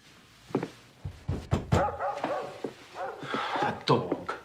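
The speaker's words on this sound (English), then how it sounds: "That dog." A dog barks several times in short, sharp bursts amid a busy indoor scene, with voices and thumps around the barks.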